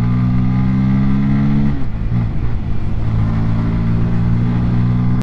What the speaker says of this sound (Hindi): को एग्जॉस्ट का साउंड सुनाऊं